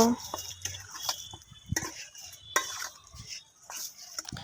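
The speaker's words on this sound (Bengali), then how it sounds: "এবার আমি ডিমের সাথে সব কিছু মিশিয়ে নেব" Noodles being stirred together with egg in a pan: intermittent scraping and clinking of a utensil against the metal, a few sharp knocks, and a soft voice faintly in the background.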